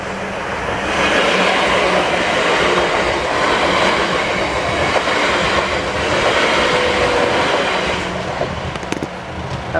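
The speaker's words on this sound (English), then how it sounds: "And there's a train coming." A South Western Railway train passes a level crossing in Southampton, its steady, loud rumble and clatter of wheels on rail filling the whole stretch without a break.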